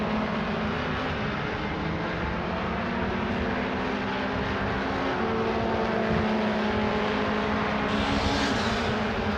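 MRF 2000 single-seater race cars racing, a dense continuous roar of high-revving engines with shifting pitch as cars pass, loud and sustained.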